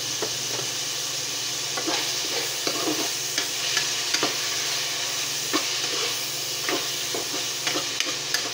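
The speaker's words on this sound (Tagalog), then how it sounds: "At pinrito muna natin guys yung manok." Chicken pieces fry in a pan for Filipino-style spaghetti, a loud steady sizzle and hiss with repeated scraping clicks of a spatula stirring at an uneven pace.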